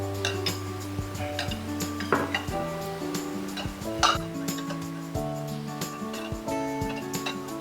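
A spoon stirs warm milk in a vessel for homemade curd, with repeated light clinks and scrapes against the metal over a faint background hum, close and quiet, without talking.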